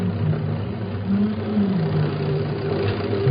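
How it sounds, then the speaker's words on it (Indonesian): Production machines in a meat processing factory run with a steady, dense, low mechanical drone and a wavering hum, continuous and fairly loud throughout, with no voices. "Sepertinya suara mesin produksi lebih kencang dari suara aku di situ."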